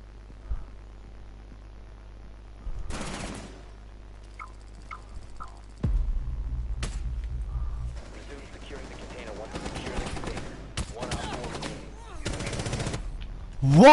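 Bursts of gunfire in Rainbow Six Siege, including a rapid automatic volley and several sharp clustered shots, fairly loud against a quiet in-game background.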